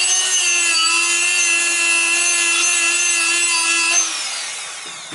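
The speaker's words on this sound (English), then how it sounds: "I sandpaper also these holes in this my brake disc" Sanding the holes of a car brake disc with a Dremel multitool gives a steady high whine with a grinding rasp, continuous and close, fading as the tool eases off near the end.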